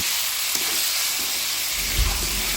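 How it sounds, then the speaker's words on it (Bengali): Chicken pieces for chicken biryani stirred with spices in a hot pot, a steady broadband sizzle with occasional scraping stirs and a brief louder clatter near the end, close and without talk. "গোছগুলো নেড়ে চেড়ে ভালোভাবে মশলার সাথে মিশিয়ে নিচ্ছি।"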